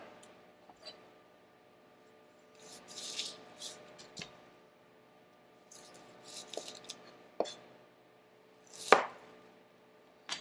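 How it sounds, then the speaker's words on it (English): A knife slices through an onion on a cutting board, with irregular quiet crunching cuts and sharp board taps spread across a near, quiet kitchen with little else heard. "we start cutting our onion"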